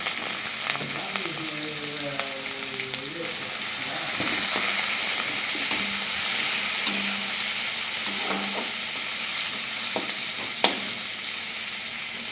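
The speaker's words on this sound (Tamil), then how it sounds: "ஹீட் பண்ணிவிட்டு இப்போ எல்லா இன்க்ரீடியன்ஸும் வதக்கிடணும்." Ingredients, onion among them, sautéing in hot oil in a kadai for drumstick sambar: a steady, close frying sizzle runs throughout, with a few stirring scrapes and clinks.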